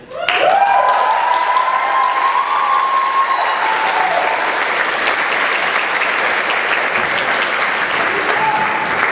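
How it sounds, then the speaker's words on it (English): An audience breaks into sustained applause for the performer Izzy at a Dare to Diva show, loud and close clapping that swells quickly and holds steady, with faint crowd cheering underneath. "Give Izzy a big round of applause."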